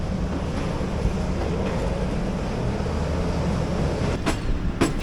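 The Tezgam AC sleeper passenger train pulls out of Rawalpindi station in Pakistan, a steady loud rumble with rolling rail clatter and a couple of sharp wheel clicks near the end.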